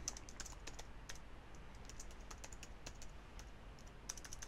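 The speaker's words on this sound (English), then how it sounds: "I'm going to type these as I'm going" Fast, continuous typing on a computer keyboard, a steady patter of light key clicks with no pauses, faint and close over a low background hum.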